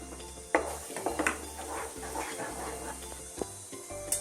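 Spoon stirring spices into a simmering pea and potato masala gravy in a cooking pot, with soft scraping and clinks against the metal rim repeating at an irregular pace over a low steady hum.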